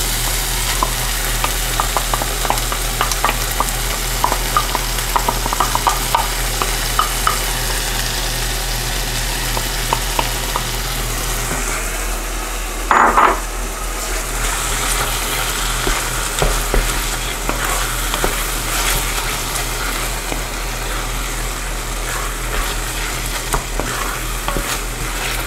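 Sofrito fries in a pan over medium heat for Spanish-style pigeon peas and rice, a long even sizzle with scraping stir strokes throughout and a louder burst midway; no talking.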